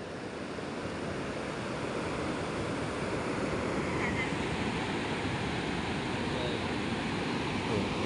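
Ocean surf rolling at Masceti Beach in Bali at night, a continuous broad wash of waves with wind, steady and fairly loud, without clear speech.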